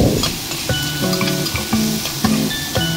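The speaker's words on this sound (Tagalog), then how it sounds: "And i-stir fry din natin ang ating pig liver or atay para matanggal yung lansa" Pork liver stir-frying in a pan for pork menudo, a steady loud sizzle with repeated scraping stirs and faint clinks, close and continuous.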